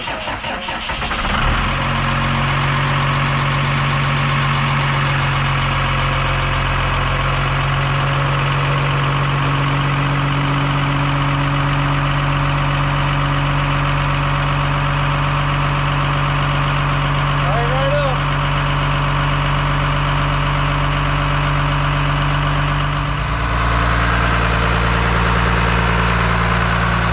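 A school bus conversion's engine idles steadily after starting, a constant close, loud rumble with a held drone that shifts slightly near the end, while a voice talks over it.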